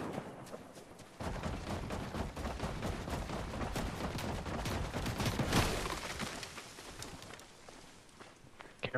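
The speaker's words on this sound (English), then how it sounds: "Getting sniped at from up there." Sniper and other gunfire in an online multiplayer shooter game, a dense barrage of sharp cracks and bursts running continuously over footsteps and game noise, fairly loud throughout.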